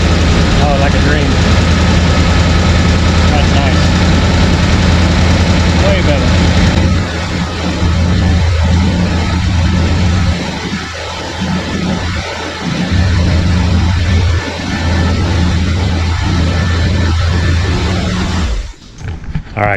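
A 1971 Corvette engine, freshly fitted with an HEI distributor, idles loudly and steadily up close, with someone talking over it partway through before it cuts off near the end.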